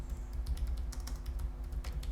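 Typing on a Logitech K380 keyboard, a quick run of soft, light clicks from low-resistance laptop-style keys, close up and steady, over a faint background hum.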